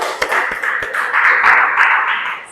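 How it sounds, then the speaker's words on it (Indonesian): A classroom of students claps together in a quick, fairly loud burst of hand claps at the start of a morning lesson, the dense rapid claps running for a couple of seconds with no talk. "Kita tepuk tangan dulu karena kita luar biasa."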